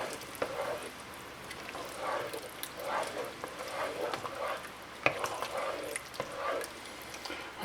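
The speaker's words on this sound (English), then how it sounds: "Let's get this stirred all up." White bean and turkey sausage chili gets stirred in a pot, a soft repeated scraping and sloshing at an even rhythm with faint simmering underneath, close and fairly quiet.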